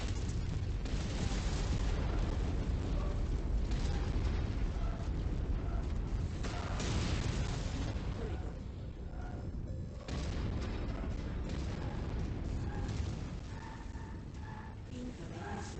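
Heavy, sustained explosion roar of an enemy mech being destroyed in MechWarrior 5: Mercenaries, with deep rumbling blasts and booms continuing under a voice, easing slightly after the midpoint.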